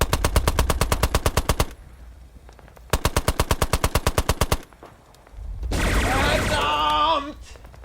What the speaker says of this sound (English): The Vickers team pivots and opens fire at the beleaguered grenadier squad.